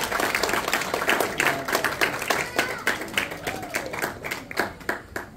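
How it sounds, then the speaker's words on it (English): An audience at an Easter choir event applauds the youth and children's choir, with a moderately loud, uneven burst of clapping and some crowd noise. "loud round of applause?"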